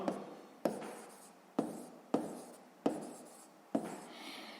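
Pen writing on paper for a sixth-grade maths exercise makes close, quiet scratchy strokes in short bursts, with about six distinct strokes each starting sharply and trailing off, and no talking.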